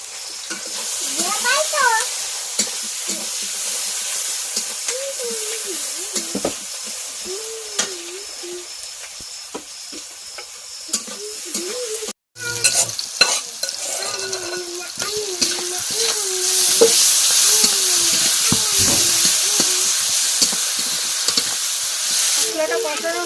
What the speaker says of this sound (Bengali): এবার এই তেলে পেঁয়াজটা দিয়ে দিলাম।